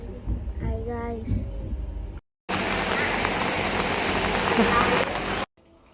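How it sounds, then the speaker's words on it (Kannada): Heavy rain pours down at Mookambika Road Byndoor railway station, a loud, dense hiss of rain on surfaces that cuts in abruptly after a voice and other talk, then stops suddenly. "ಇಲ್ಲಿ ತುಂಬ ಮಳೆ ಇದೆ, ಫುಲ್ ಮಳೆ"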